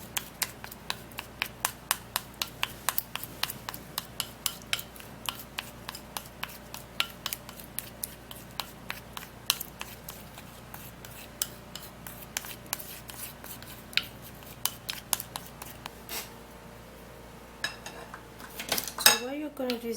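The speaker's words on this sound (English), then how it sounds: "So you have to mix it very well" A spoon clinks and scrapes repeatedly against a bowl while a homemade belly-fat paste of ingredients is mixed together, a steady rhythm of sharp clicks close up, ending with a brief louder clatter.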